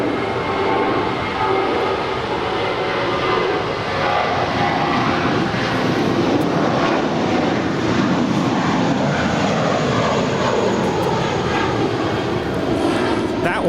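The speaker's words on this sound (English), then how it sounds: "That was United Airlines flight 2069 departing to Houston. It's 27-year-old Airbus A320." Twenty-seven-year-old United Airlines Airbus A320 taking off from LAX, a loud, continuous jet roar with a rising engine whine, while voices talk over it.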